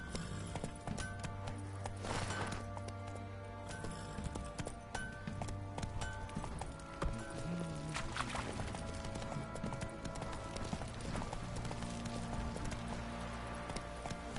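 Horse hooves clip-clop steadily in Witcher 3 as the rider sets off, a continuous rhythmic trot over a dense game soundscape of ambient music and effects.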